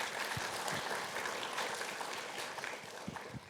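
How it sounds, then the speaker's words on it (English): Applause from an audience in a university lecture hall during an algorithms class, a steady, fairly faint wash of clapping lasting the whole stretch with a few sharper claps standing out. "A round of applause for Rania."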